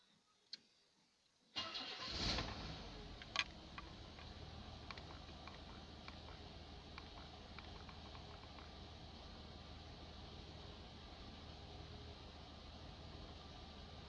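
A fully warmed-up 2.8-litre L-Jetronic fuel-injected engine in an Opel Senator A2 cranks and catches, then settles into a steady, low idle that continues evenly to the end with no voices.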